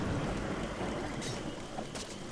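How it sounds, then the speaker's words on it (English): Steady rain in the video game How To Survive, a quiet, even wash of broadband hiss with a couple of faint brief splashes. "It's dark. It's raining."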